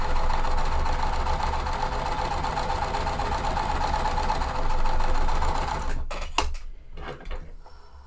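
A sewing machine runs a long, fast, steady whir while stitching pieces with Aurifil cotton thread, then stops and is followed by a few short bursts of stitching.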